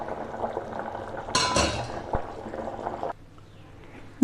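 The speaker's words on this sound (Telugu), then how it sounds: "నేను స్ట్రైనర్లో ఇలాంటి పెద్ద స్ట్రైనర్ తీసుకొని ఇందులో ఫిల్టర్ చేసుకొని ఇస్తాను." Chicken soup is poured through a large strainer in a home kitchen, giving a steady splashing liquid pour with a louder gush midway, a metallic clink, then a sudden drop to quiet.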